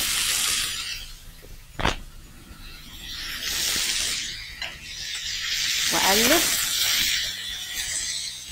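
Beef bacon sizzles and crackles in a hot pan in swelling waves of hiss, with a sharp knock of a utensil and brief scraping as it is moved around.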